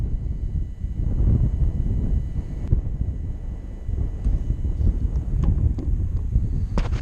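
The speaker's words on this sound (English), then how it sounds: "It's extremely windy right now" Strong gusting wind buffets the microphone outdoors during a drone flight, a loud, low rumbling roar that surges and eases continuously with a few sharp clicks and knocks.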